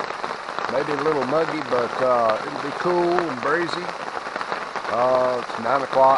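Steady rain falls on a campsite during a hurricane-driven storm, a constant hiss continuing under someone talking throughout.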